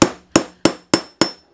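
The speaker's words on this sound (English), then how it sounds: "you're going to take your hammer" A hammer strikes five times at a steady, quick pace, punching holes in leather for a DIY pen loop. Each blow is a loud, sharp, close knock that decays fast.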